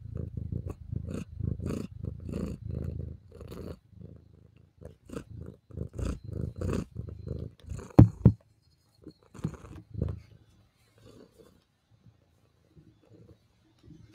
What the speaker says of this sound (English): maybe you can hear her purring.